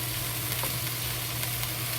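Pork frying slowly in a pan gives a steady, even sizzle that holds at a constant level throughout, with a low hum beneath and no voices.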